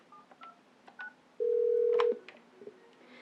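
A Mitel 6900 office desk phone gives its incoming-call signal, a single steady electronic tone lasting under a second, alone against a quiet room with faint clicks around it.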